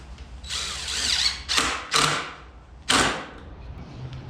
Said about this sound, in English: Okay, put a screw.